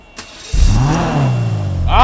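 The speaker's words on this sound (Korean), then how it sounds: "제가 엔진 소리 한번 들어볼게요" Hyundai Veloster race car in GTA5 starting up and revving, a short click then a loud engine roar that swells and sweeps up in pitch before settling, close and dominant.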